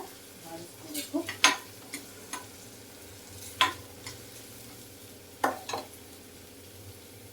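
Sliced onions sizzle in hot oil in a pan for onion capsicum gravy, with a steady low fry under scattered sharp scrapes and taps of a spoon stirring, close and moderately loud.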